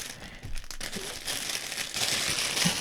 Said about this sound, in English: We've got a bread knife. We're going to basically cut up the baguette as number 1.